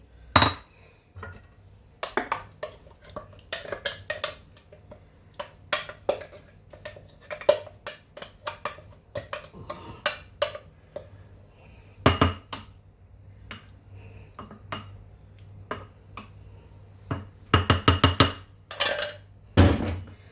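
Spoon scrapes and clinks against a pot and bowl in irregular bursts as thick cucumber-tomato chutney is transferred, with a louder cluster of clatter near the end; no talking.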